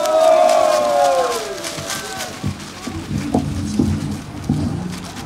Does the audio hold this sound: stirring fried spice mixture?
no